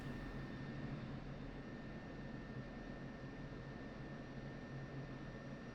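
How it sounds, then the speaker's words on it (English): Steady, broadband jet engine roar from an aircraft on its landing approach in the DCS World combat flight simulator, continuous and even in loudness with a faint high tonal whine on top, no voices. "All right, guys, we're coming in for landing again."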